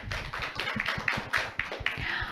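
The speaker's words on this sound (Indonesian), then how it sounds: "kita kasih tepuk tangan" A small group of students at MIN 1 Toli Toli clapping together in a quick, even rhythm, close and moderately loud, with no talking over it.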